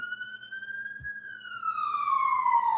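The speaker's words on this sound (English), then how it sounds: "I got a siren going by" Emergency vehicle siren passing by, a steady wailing tone that slowly rises and then falls in pitch as it goes past, growing louder toward the end over a faint low hum.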